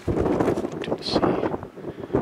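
Steady coastal wind in North Wales buffets the microphone with a low, rumbling roar that barely lets up, with gusting surges throughout.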